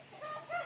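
Farm chickens cluck faintly in the background, soft short calls rising and falling against a quiet backdrop.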